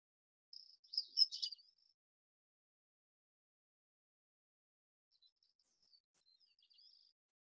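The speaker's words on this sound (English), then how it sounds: "Did anyone hear a Bicknell's thrush?" A faint, high Bicknell's thrush song, distant and thin, plays in one short burst of fluty notes on a mountainside, followed by silence and a fainter phrase later.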